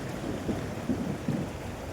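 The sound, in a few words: heavy rain and thunder during a storm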